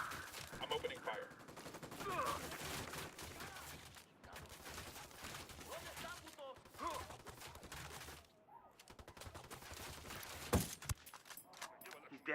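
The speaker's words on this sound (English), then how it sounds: "I'm opening fire." Game gunfire from the tactical shooter Ghost Recon Wildlands, shots crackling steadily through the whole stretch with a sharp loud crack near the end, mixed with voices and game ambience.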